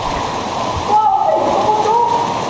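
Spring water spurts and splashes inside a cave in a steady rushing hiss, growing a little stronger midway, with a voice speaking over the flow.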